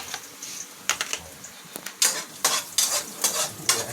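Garlic sautéing in a hot pan, heard as soft sizzling broken by several sharp scrapes and stirring clinks of a utensil against the pan, close and clear, with no talking.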